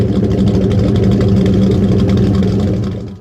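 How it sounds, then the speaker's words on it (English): A Ford 302 Windsor five-litre small-block V8 muscle car engine idles steadily with a deep, even rumble, loud and close, running alone before fading out at the end. "The Ford 302 Windsor, also known as the 5-litre, is a small block V8 engine"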